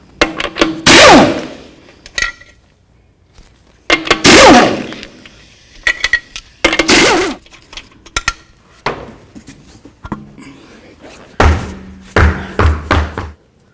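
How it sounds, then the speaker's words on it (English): Lug nuts, 21mm and six of them, being worked off a 2003-2009 Toyota 4Runner rear wheel: several loud metallic clanks and ratcheting knocks come in bursts with pauses between, close up and with no talking. "take off your 6 21mm lug nuts."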